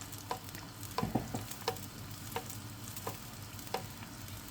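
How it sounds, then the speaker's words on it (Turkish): Pişi dough sizzling in hot oil in a pan, a steady frying hiss with a few sharper pops and crackles near and fairly quiet, no talking. "Pişimizi sıcak yağımızın içerisine attık."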